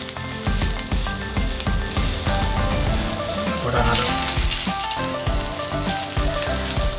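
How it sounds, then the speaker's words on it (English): Cabbage dumplings sizzle and crackle steadily in hot oil in a pan, a loud continuous frying hiss with small spits and pops, while a voice speaks briefly over it. "when the water of the cabbage comes in contact with the oil, it's going to cause a little sizzle"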